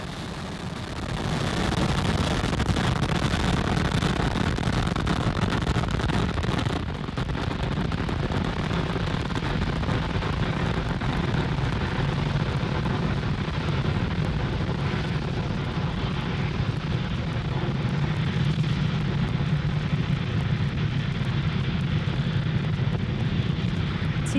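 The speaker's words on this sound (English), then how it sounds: "Falcon 9 has successfully lifted off from Cape Canaveral Space Force Station, carrying our stack of Starlink satellites to orbit." A SpaceX Falcon 9 rocket carrying Starlink satellites lifts off from Cape Canaveral Space Force Station, a continuous deep crackling roar that swells quickly and holds steady and loud for over twenty seconds.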